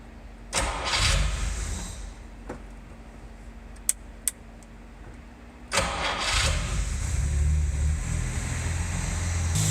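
A 1967 Jaguar E-Type engine cranks and catches on its first start near 0.5 s, settles into a rough idle, then cranks and fires again around 5.7 s, running loud and close until the end.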